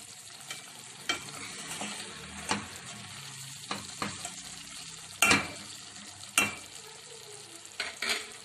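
Fresh coriander being stirred into mutton liver frying in a pan for dhuwan kaleji, with a steady low sizzle and a series of sharp scraping stirs, scattered and uneven, close by.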